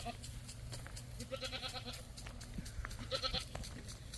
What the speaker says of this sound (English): He's a pretty good billy goat.